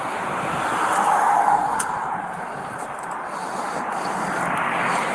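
A car engine runs steadily at a traffic stop, a constant broadband rumble with a low hiss, close and fairly loud, with no voices over it.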